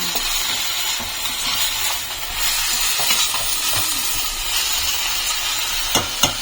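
Hot oil hisses in a blackened kadai (wok) with kalo jeera as it heats for moringa drumsticks in a home kitchen: a steady, fairly loud broadband sizzle with a few sharp clicks and knocks near the end.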